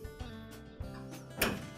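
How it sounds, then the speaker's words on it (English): A Whirlpool dryer's main top panel is lowered into position during an idler assembly repair, giving a few soft clunks and a brief rattle, quiet and close. "And we'll lower the main top"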